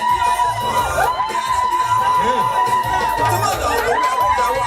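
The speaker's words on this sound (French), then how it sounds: "Qu'on l'acclame à son arrivée, s'il vous plaît." A hall crowd at a presidential investiture cheers, shouts and whoops as the president enters, a dense continuous roar of voices with shrill cries rising and falling.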